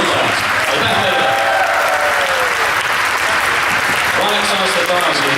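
An audience at a dance competition in Tartu claps loudly and continuously for a dance couple, a dense, close wall of applause running the whole time while a voice speaks over it.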